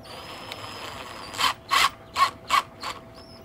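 Short bursts from a screw gun driving screws into wood, five quick whirring pulses in a row with brief gaps, close and fairly loud over a quiet room hum.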